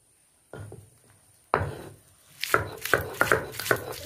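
Green chillies being ground into a paste by hand, a few separate heavy strokes followed by a quicker run of rhythmic scraping and pounding, close and fairly loud with no talking.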